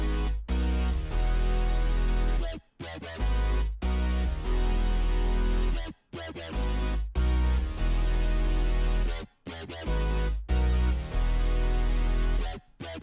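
A dense hip-hop beat loop from a remake plays with heavy 808 bass and high-pass EQ on the other parts, cutting out briefly several times in a repeating pattern, loud and without voices.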